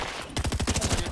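Purple infantry rifle fired in Fortnite: a fast, loud burst of about nine evenly spaced shots with sharp, punchy cracks, beginning after a short quiet lead-in.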